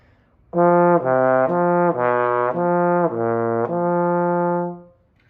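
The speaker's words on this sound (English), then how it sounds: "there's the over the valve, or using the valve slur, which sounds like this" A trombone slurs using the valve, stepping smoothly between a handful of connected notes with crisp changes as the valve engages, resonant and close, ending on a held tone with no voices.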